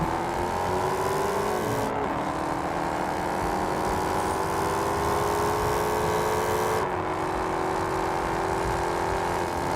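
AI race car engines in Test Drive Unlimited Solar Crown roar steadily throughout, with high revving pitches sliding and shifting as cars accelerate and pass, loud and continuous with no talking.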